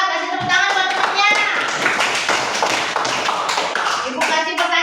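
A group of young children clap for a classmate in a classroom, a lively burst of uneven hand claps mixed with kids' voices chattering over the top.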